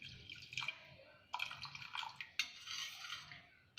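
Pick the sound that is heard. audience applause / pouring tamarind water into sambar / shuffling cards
pouring tamarind water into sambar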